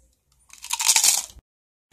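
A single close, loud crunchy bite into fried pork rind (chicharrón de puerco), a crisp crackling burst lasting under a second, alone with no talk.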